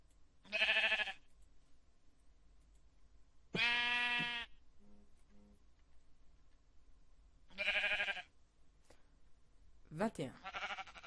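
Sheep in the video game Minecraft bleating, four loud, clear bleats spaced a few seconds apart over quiet background, the last one wavering.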